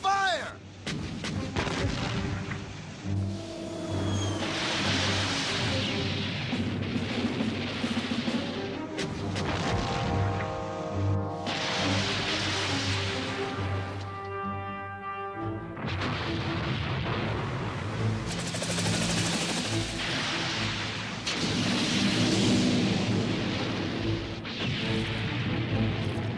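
Battleship main guns fire a salvo in a naval engagement, heavy booming blasts rolling one after another across a loud, dense wash of rumble and explosions, with faint voices now and then.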